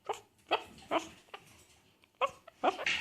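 Puppies give a handful of short, high yips and barks in uneven bursts, close by and moderately loud, with quiet gaps between them.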